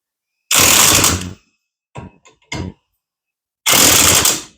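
An impact wrench snugging down the lug nuts on a van wheel fires in two loud, close bursts about a second long. Between them come a few brief clanks and taps of tool handling.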